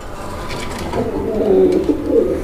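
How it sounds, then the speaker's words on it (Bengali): Pigeons at a pigeon farm give soft, low cooing that swells and repeats steadily for a couple of seconds, fairly close, with no talking. "বন্ধুরা আমরা এই মুহূর্তে দেখতে পাচ্ছি এখানে আরো এক জোড়া কবুতরের কালেকশন আছে।"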